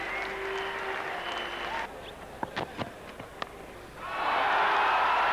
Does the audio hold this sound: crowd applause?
yes